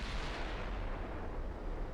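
A naval gun salvo fires in a warship battle in Ultimate Admiral Dreadnoughts, a dense rumbling boom that fills the whole moment without pause.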